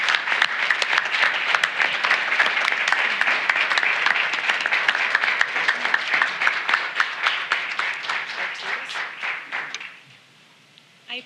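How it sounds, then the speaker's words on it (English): Audience at a school board meeting claps steadily for about ten seconds, a dense roomful of hands that fades out near the end, followed by a brief quiet. "Let's give her a round of applause."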